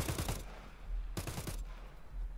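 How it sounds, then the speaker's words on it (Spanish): Gunfire in the shooter game Arena Breakout Infinite: a quick burst of rapid shots, a short pause, then a second burst, fairly faint and with no talking. "Por las dudas, le disparo."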